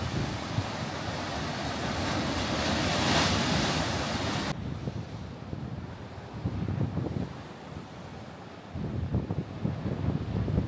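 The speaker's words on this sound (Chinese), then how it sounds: "再听一下海的声音。" Ocean waves wash onto a beach on Kauai, Hawaii, making a loud, continuous surf roar with heavy wind buffeting the microphone for the first few seconds, then a calmer, rhythmic wash of breaking water.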